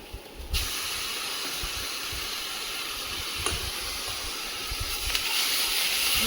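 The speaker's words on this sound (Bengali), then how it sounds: "সবগুলি মশলা একসঙ্গে কচিয়ে নেব" Onion, ginger and garlic pastes with salt sautéing together in a pan over a low gas flame, a steady broad hiss of frying, close and continuous with a few faint scrapes.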